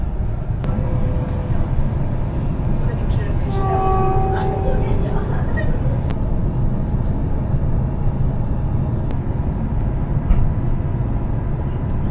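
Steady rumble of a moving Brisbane passenger train with constant low noise and a few faint tonal whines rising briefly in the middle.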